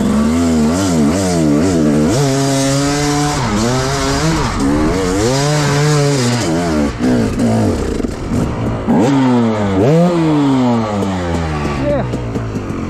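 Motorcycle engine revving hard while climbing a hill, rising and falling in repeated surges of throttle, loud and close throughout.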